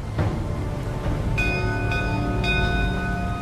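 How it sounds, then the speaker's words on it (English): Titanic lookout's warning bell struck three times, ringing clear metallic strikes at steady intervals over a constant low rumble, each tone lingering before the next. "three bells pierce the night, signaling Titanic is heading right into her kill zone"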